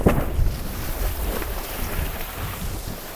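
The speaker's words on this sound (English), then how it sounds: "There's some big weird old gusts today." Heavy wind gusts buffet the microphone with a steady low roar and rumble at Sunset Beach, South Africa, with faint ocean water sounds beneath and no voices.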